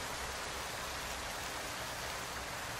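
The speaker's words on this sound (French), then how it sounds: "Vous voyez la pluie." Steady rain in the trucking game American Truck Simulator, set in Wyoming: a dense, even hiss of falling drops with no breaks, constant and fairly loud, no voices.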